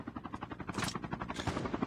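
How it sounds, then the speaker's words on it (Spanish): Helicopter approaching in the video game Call of Duty, a fast rhythmic rotor chop mixed with bursts of gunfire, fairly quiet and steady throughout. "Viene otro helicóptero."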